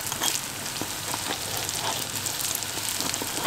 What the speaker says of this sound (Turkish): Şöyle kızarırken üzerine de kenarından kaşıkla yağ alıp üzerine koyalım.